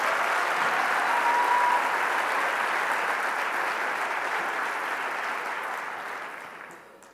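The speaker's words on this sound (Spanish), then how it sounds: "Un aplauso muy fuerte para él." Loud, sustained applause from a crowd at a political rally, steady for several seconds before gradually fading out at the end.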